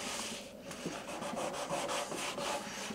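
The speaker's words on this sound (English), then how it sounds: "Now we're going to wipe down with some alcohol." Cloth soaked in alcohol wiping down the bonding surface of a damaged Royalex canoe before an epoxy patch, a close, steady run of soft rubbing strokes with no voices.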